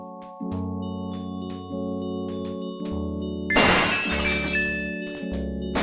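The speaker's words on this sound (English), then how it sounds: "Gabriel hears the faint sound of breaking glass" Glass breaking in the 1993 PC adventure game Gabriel Knight: Sins of the Fathers, a single bright shattering crash with tinkling shards, heard over steady game music.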